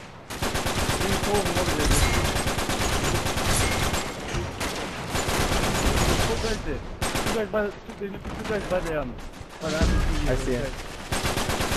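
Near-constant loud gunfire fills a match of the video game Uncharted 3, with rapid overlapping automatic bursts and someone talking over the shooting.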